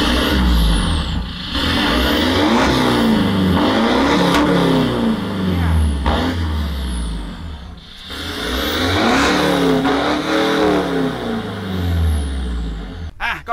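A Ford Ranger T6 pickup converted to F150 Raptor US spec revs its exhaust, producing loud, close, throaty engine swells that rise and fall in repeated blips over a continuous rumble.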